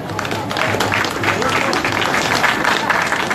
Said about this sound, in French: Je voudrais qu'on puisse applaudir monsieur le ministre gouverneur Begré Mambé